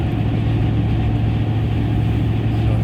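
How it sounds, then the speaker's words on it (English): Pickup truck engine with a dual cat-back exhaust idling or cruising at low revs, a steady, fairly loud low rumble that holds constant throughout with no voices. "this truck, it has dual exhaust. It's just a catback, so it's not too loud unless you goose it"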